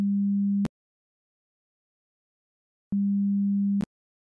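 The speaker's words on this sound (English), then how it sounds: "This corresponds to the pure tone we generated." A pure 200 Hz sine tone synthesized in Python sounds twice as a steady, clean hum, each about a second long, separated by silence and ending with a faint click.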